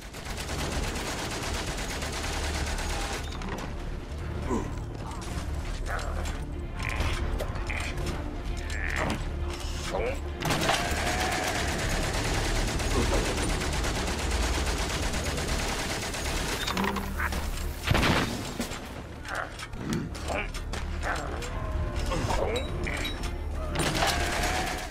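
Rapid machine-gun fire from the World War I video game Valiant Hearts rattles in repeated bursts over a constant mechanical clatter and battlefield din, with a voice talking intermittently.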